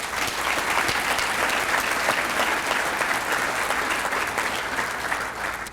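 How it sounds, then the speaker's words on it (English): An audience at a school district State of the District event gives a long, dense round of applause, many hands clapping steadily and loudly with a full, even roar throughout. "We just give them a round of applause."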